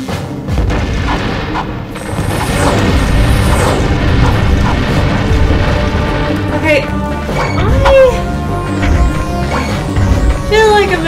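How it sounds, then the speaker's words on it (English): Bomb glove explosions in the 2002 Ratchet and Clank game, with repeated loud booms and crashing blasts one after another, under a steady bed of game music and effects, with voices talking over them. "I'm gonna bomb glove him"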